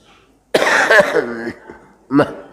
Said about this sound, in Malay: Ambo batuk-batuk